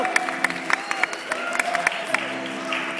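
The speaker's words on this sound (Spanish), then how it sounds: "a ella con un aplauso fuerte" Clapping from an audience at a school performance, with sharp individual claps standing out over a broad crowd wash and voices calling out above it.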